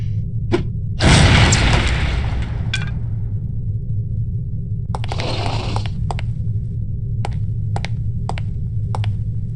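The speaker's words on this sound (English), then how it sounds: "These relatively inconspicuous-looking lipsticks are actually powerful explosive devices that detonate on impact." An explosive lipstick detonates on impact in the spy shooter No One Lives Forever, a loud close blast that rolls on for about two seconds, followed by a second burst and several sharp clicks over a steady low game hum.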